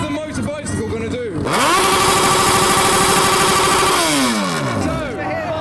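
A motorcycle engine blasts through a hard rev at a crowded rev battle event, the note jumping up abruptly, holding a loud raspy roar, then sweeping back down, with crowd voices and talk around it.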